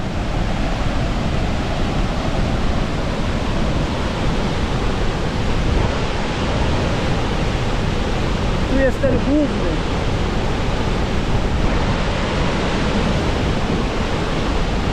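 Victoria Falls in Zimbabwe thunders in a dense, unbroken roar of falling water and spray, loud and close throughout, with someone talking briefly over it midway.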